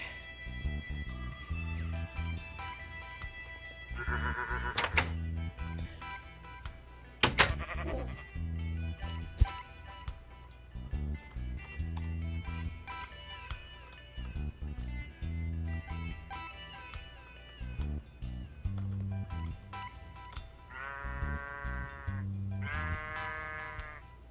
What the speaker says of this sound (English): there's a sheep that's on the loose